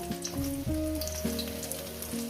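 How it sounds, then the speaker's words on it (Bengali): Pointed gourd (potol) pieces sizzle steadily in hot oil in a pan, a soft continuous crackle sitting beneath a prominent melodic music track. "আমি কী করে ভাজছি পটলগুলো আমি সুন্দর করে ভেজে নেব"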